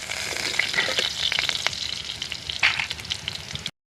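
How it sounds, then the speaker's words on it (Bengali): Potatoes fry in oil in a wok, the oil already used for frying lentil dumplings, giving a lively crackling sizzle with clicks of stirring before it cuts off abruptly. "এবার বড়ি ভাজার তেলের মধ্যে আমি আলুগুলোকে একটু ভেজে নেব।"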